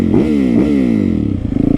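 A loud motorcycle engine roars close by during a long wheelie, its pitch rising and dipping as the throttle is blipped, then settling into a pulsing drone.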